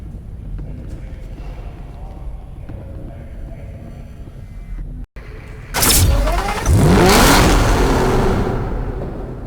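Aston Martin DBS engine in the racing game NFS Hot Pursuit, a low rumble under narration that breaks off, then a loud roaring rev and swelling acceleration.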